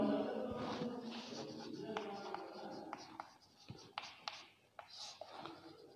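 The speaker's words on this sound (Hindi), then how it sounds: "अब अपन लिखते हैं कोशिका चक्र की परिभाषा" Chalk or marker writing on a classroom board during a Hindi-language biology lesson, soft scratching strokes with several sharp taps, faint and close, under quiet room noise.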